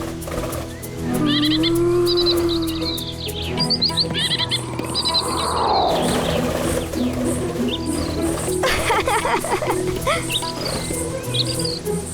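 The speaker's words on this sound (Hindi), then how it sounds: "इतने सुंदर पक्षी" Birds chirping in a forest-like outdoor setting, a dense chorus of high calls and trills over a steady insect-like drone, with a whooshing swell midway and no talk.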